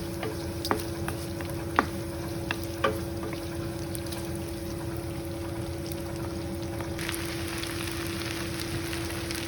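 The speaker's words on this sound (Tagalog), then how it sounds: "At ngayon, igisa na natin ang ating bawang at sibuyas" Garlic and onion sautéing in a pan for pancit guisado, a steady close sizzle with a few soft clinks from stirring and no talk.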